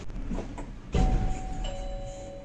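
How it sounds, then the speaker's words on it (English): A doorbell at a holiday resort on Kos island, Greece, sounds a sustained chime that steps down from a higher to a lower tone partway through, heard over a steady background hum. "That's a doorbell, that's an actual doorbell on that."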